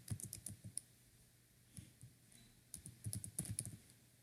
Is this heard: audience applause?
no